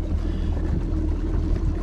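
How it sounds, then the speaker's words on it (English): A fishing boat's engine idles on a lake with a steady low rumble and wind noise, close and continuous with no talking. "we're idling out to the main channel of the lake right here"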